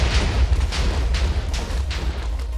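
Rolling TNT explosions in a video game, a continuous loud rumble with repeated booming bursts close together, no talking.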